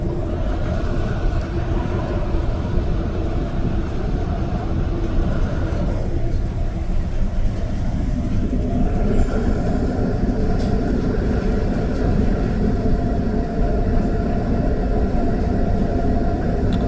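Steady, loud rumble and rolling hum inside an REM light rail train riding from Brossard Station to Île-des-Sœurs Station, continuous throughout with a brief dip in the middle and no talking.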